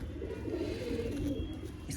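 A pigeon coos softly and continuously in a low, rolling murmur, close by against a steady background hum with no speech.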